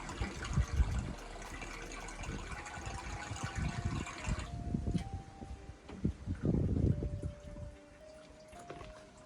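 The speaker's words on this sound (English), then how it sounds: "we're going to fill this hose with water" A hose is being filled with water, giving a steady close rush and gurgle with sloshing bursts that shift in tone midway and then fade into quieter trickling near the end, with no voices.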